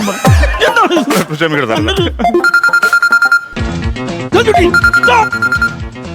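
A telephone rings in a comedy skit, a repeated electronic ringtone pattern heard over background music and busy sound, fairly loud and close throughout.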